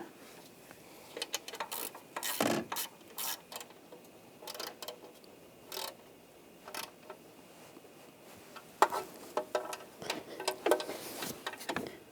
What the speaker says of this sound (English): Once all the bolts are in, you can tighten those down.